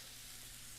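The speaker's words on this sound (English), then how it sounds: "We got a nice sizzle going" A soft, steady sizzle of butter frying with shallots and garlic in a hot pan, brief and even.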